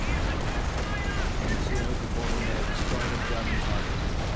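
A .50 cal machine gun hammers away in a Company of Heroes battle, a dense, continuous stream of heavy fire mixed with explosions and battle noise, loud throughout, with a voice talking over it.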